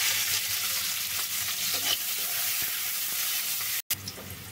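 Onion and garlic frying in a pan while being stirred, a steady loud sizzle running throughout with occasional scraping, broken by a brief gap near the end.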